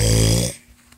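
A voice imitates a loud, rumbling snore for Bowser, a toy character. A single drawn-out, growly snore is heard close up, then it cuts off into quiet.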